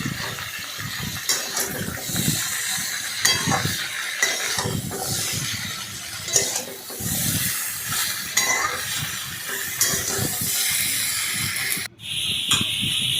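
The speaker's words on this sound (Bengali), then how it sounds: "ভালোভাবে নাড়াচাড়া করে ভাজতে হবে" Eggplant and mixed vegetables being stirred and fried in a pan, uneven sizzling and scraping bursts close up with irregular rhythm, a brief dropout near the end.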